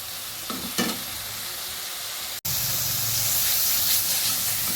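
Spice masala with slit green chillies being stirred and fried in a pan for Bhola fish curry, a steady close sizzle and hiss with a brief stirring scrape and a sudden cut, then louder frying.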